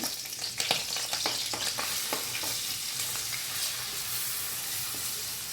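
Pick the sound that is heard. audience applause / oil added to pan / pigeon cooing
oil added to pan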